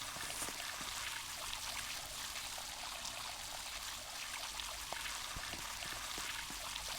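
Water sloshing and trickling from a bucket while watering in a video game, a steady pouring flow with light droplet splashes, close and continuous with no talking.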